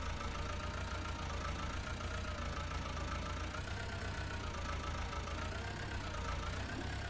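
A farm vehicle's engine in a Farming Simulator mod map runs steadily throughout, a droning mid-pitched idle with a faint wavering tone, no voices over it.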